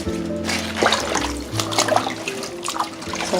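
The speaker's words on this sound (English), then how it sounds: "rinsing off the collard greens" Collard greens rinsed under a running kitchen tap, water trickling and splashing steadily against the leaves and sink at close range, with background hum and no talk.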